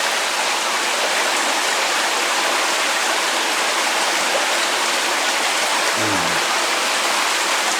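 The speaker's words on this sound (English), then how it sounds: "Water just gushes right out of the wall." Water gushes steadily out of a crack in a cave wall from a spring, making a loud, dense, unbroken rush that fills the whole stretch, heard up close with no talking.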